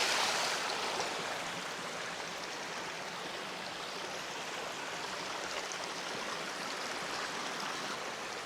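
A streambed of marbled limestone stones below fossil-bearing cliffs yields a steady, broad rushing of flowing water, close and even in level throughout, with no voices over it.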